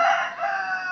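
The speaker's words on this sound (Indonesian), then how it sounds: "ada ayam berkokok" A rooster crows once, a loud, near, drawn-out call filling the short moment with no talk over it.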